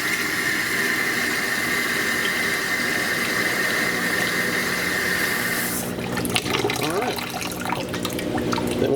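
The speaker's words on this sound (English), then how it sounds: "Fill it up with cold water, just to cover the chicken up." Cold tap water runs into a cooking pot holding a whole chicken, a steady close splashing rush that starts partway through after a stretch of kitchen hum.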